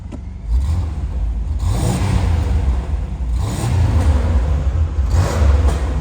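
A 1988 Pontiac Grand Prix V6 revs loudly up close, its low rumbling engine climbing and easing through several surges over a steady idle, with no talking.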